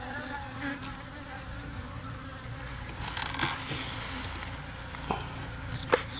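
Bees mill around a hive box that has been moved to a new spot, a continuous close buzzing with individual insects swelling louder as they fly past the microphone.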